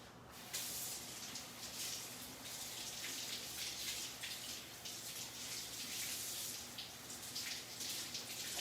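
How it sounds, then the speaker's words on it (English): Tap water running in a kitchen sink while parsley is rinsed, a steady, fairly faint hissing splash that starts abruptly and continues alone without talk. "Give this another rinse."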